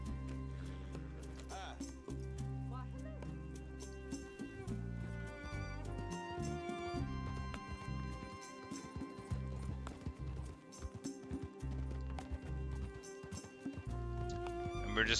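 Horse hooves clip-clop in a fast rhythmic gallop across the ground in Red Dead Redemption 2, with an occasional whinny and game music softly underneath.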